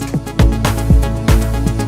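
A Fruity DX10 bass plug preset in FL Studio plays a deep, punchy pattern of plucked bass notes in a steady rhythm, loud and close, with no talking.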